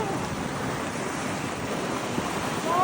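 Sea waves wash and rumble in a continuous broad roar, mixed with wind noise buffeting the microphone, steady throughout with no break.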